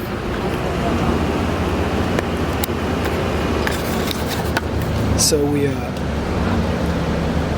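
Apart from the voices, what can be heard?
bus ride from Sulmona, road noise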